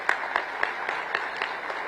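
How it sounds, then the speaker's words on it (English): Conference audience clapping briefly, a short burst of scattered claps with several distinct hand strikes standing out over a softer background of applause. "give yourselves a round of applause for being here"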